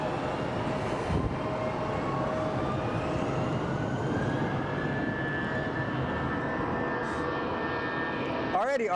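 A Boeing Dreamliner bound for Honolulu taxis at Phoenix Sky Harbor Airport, a steady, loud jet engine whine and broadband rumble that holds throughout, with a rising tonal note partway through and a voice speaking over it.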